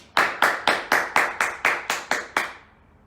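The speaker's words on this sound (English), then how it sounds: "Let's give her a round of applause." About ten sharp hand claps ring out in an even, steady rhythm, close and alone, thinning into a short echo at the end.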